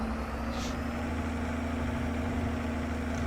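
A tractor engine idles steadily in Farming Simulator 22, a continuous low rumble with a constant hum, close and unchanging throughout.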